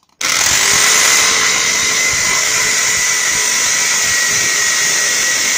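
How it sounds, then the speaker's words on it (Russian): A power drill bores into a plastic-paneled ceiling with a carbide masonry bit, starting abruptly and then holding a loud, steady high-pitched whine, close by, with no talking. "сверлим потолок"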